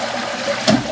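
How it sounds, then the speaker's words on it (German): Water rushes briefly and steadily as a concealed toilet cistern is drained, with a short burst of gurgling near the end, close and moderately loud. "lasse hier etwas Wasser ab"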